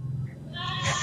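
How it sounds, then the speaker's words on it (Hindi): A Rajanpuri milking goat on a Pakistani goat farm gives one short, close bleat that rises and then fades, with no talk over it. "ये नंबर 2 पे बकरी है"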